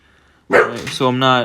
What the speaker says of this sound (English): it's my dog barking and everything